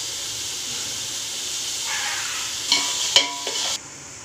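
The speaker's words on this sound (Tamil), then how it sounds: "வெங்காயம் வந்து வதங்குது" Onions with salt sautéing in hot oil for vegetable biryani, a steady close hiss of frying that swells with a few quick stirring scrapes before cutting off abruptly, no voices over it.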